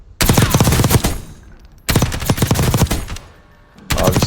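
Kilo assault rifle firing in Call of Duty Warzone, Black Ops 6 Season 3: three loud, close, full-auto bursts, each about a second or more long, separated by short pauses.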